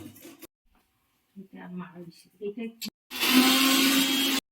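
A mixer grinder blends cabbage paste with garlic in a loud, steady whir that starts abruptly after a few seconds of talking and clattering, then runs continuously to the end.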